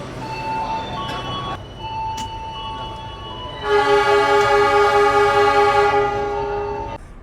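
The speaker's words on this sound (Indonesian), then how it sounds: "sinyal udah hijau, persiapan berangkat kereta api Sangkuriang" The Sangkuriang passenger train pulls out of a station with a long, loud horn blast of stacked harmonic tones after some rumbling and clanks of the cars starting to roll.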